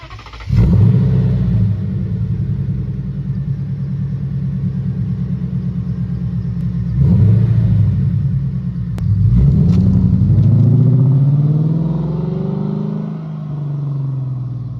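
Supercharged 2008 Lexus IS F V8 cranking and firing up, settling into a loud, close, steady rumbling idle with a couple of brief blips and a final rev that slowly falls back.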